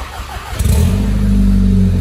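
A Golf 6 engine with an aftermarket exhaust line starts and settles into a loud, deep, throaty rumble, louder than stock, close by, with a heavy low growl.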